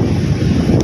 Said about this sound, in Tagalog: Napakalakas pong alon.